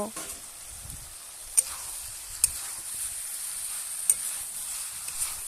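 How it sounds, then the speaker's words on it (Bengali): Boiled jackfruit and potatoes stir-fried with spices in a pan for a chicken and jackfruit curry, giving a steady close sizzle with a few sharp stirring clicks and scrapes; no one speaks. "কাঁঠাল আর আলুগুলো এবার দিয়ে একটু মশলার সঙ্গে কষিয়ে নেব।"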